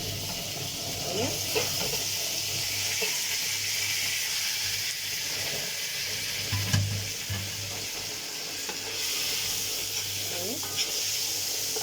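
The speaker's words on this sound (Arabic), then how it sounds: "خليها تشوح" Okra sizzling and frying as it is sautéed in a pot, a steady close hiss with occasional stirring clatter, and someone speaking briefly over it.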